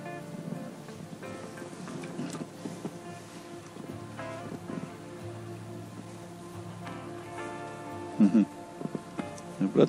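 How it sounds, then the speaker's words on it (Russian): Steady rain pattering on a surface during a July spin-fishing outing, a dense even hiss with a few faint tonal sounds and a brief louder knocking near the end. "Обратно возвращается к нам дождь."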